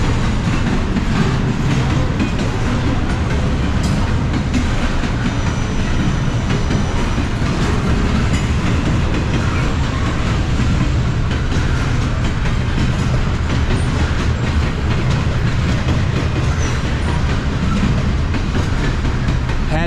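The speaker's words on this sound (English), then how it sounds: "I got here right on time. The freight train." A loud Norfolk Southern freight train rumbles past close by in Dalton, Georgia, heavy continuous roar with rhythmic clacking of wheels over rail joints throughout.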